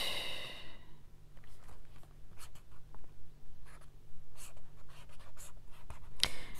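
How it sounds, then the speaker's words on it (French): A pen or pencil moves across paper in short, close scratchy strokes, irregular bursts of faint scribbling separated by brief pauses, with soft breathing in the background. "J'essaye de dessiner ce que je vois"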